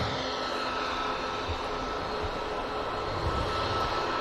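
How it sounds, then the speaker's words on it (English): A Ryanair jet bound for Derry roars steadily at Manchester Airport, a broad, even engine rumble heard from a distance with no voices over it. "This is a Ryanair for Derry."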